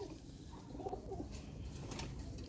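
Pigeons cooing in a loft of Teddy pigeons, soft low throaty coos repeating faintly amid a busy ambient background.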